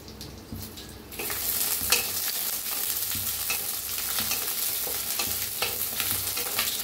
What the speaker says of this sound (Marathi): तेल ओतून घेऊया थोडंसं। असं कांदा कापून घेतलाय बघा मोठा मोठा असं, त्याला भाजून घेऊया हलकसं।